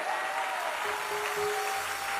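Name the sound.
audience applauding and cheering loudly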